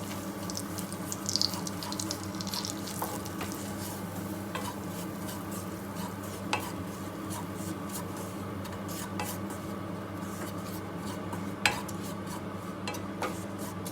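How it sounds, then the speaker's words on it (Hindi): Wheat flour dry-roasting in a pan, stirred and scraped with a spoon for a steady stretch, with light metallic clinks against the pan and a faint sizzle throughout, no one talking. "अभी हमें इसको भूनना है, अच्छी तरह से रोस्ट करना है।"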